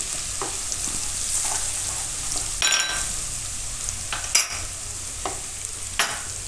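Garlic, asafoetida and cumin fry in oil in a pan, a constant bright sizzle broken by several light stirring clinks and scrapes, close and with no talk.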